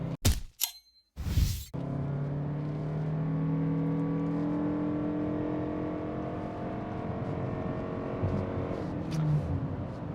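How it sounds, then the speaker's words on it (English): A 2025 Toyota Crown Signia in sport mode under full-throttle acceleration, its CVT giving a steady, droning hum that holds a near-constant pitch for several seconds after a few brief clunks at the start. "can probably hear the CVT humming along"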